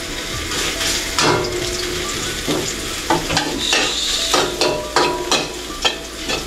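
Garlic fries in a pan with a loud, steady sizzle. Repeated scraping stirs run through it, and no one speaks.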